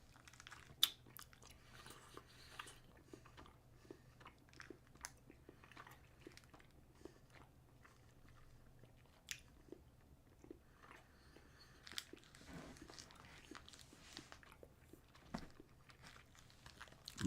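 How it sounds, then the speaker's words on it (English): Close, steady chewing and crunching of a crunchy sandwich cookie with vanilla and strawberry filling, with repeated bites and jaw clicks over seventeen seconds, no talking. "My life has turned into endless chewing."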